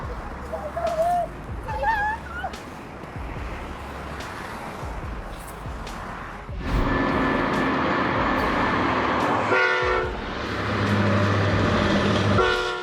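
A train approaches on the tracks, its horn sounding in several sustained tones over a broad rumble that swells louder in the second half, with birds chirping early on.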